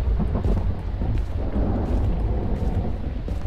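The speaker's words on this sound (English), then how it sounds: "Oh, the thunder." Deep rolling thunder from a ghost hunting video game, a continuous low rumble with a steady, fairly loud level and no talk over it.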